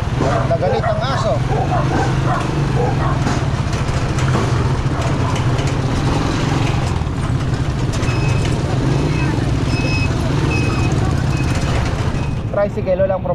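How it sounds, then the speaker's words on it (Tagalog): Dog barking angrily near a market street with idling tricycle engines, repeated barks mixed into constant traffic rumble and nearby voices. "galit na galit ang aso."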